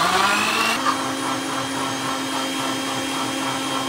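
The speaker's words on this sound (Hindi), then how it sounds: "तो गाइज अब मैं बना रहा हूँ बनाना शेक।" A blender whirs steadily while blending a banana shake, its motor pitch stepping up slightly early on, then holding a loud, continuous drone with no talking.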